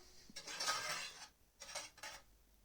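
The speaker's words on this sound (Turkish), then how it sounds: "Tekrar karıştırıyorum." Butter and warm milk being stirred together in a bowl, giving a close, fairly loud scraping swirl of a utensil against the dish, then two shorter strokes.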